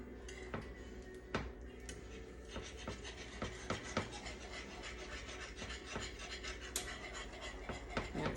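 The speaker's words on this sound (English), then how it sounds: "you're going to just keep on whisking." A whisk scrapes and taps steadily through sausage gravy coming to a boil in a pan, a faint, close series of rhythmic scratches and light clicks over a low background.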